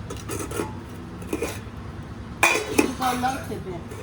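Dishes and a karahi scrubbed and washed in a Punjabi village home, utensils clinking and scraping in scattered clusters close by, a louder burst of metal clatter near the end, with voices talking throughout.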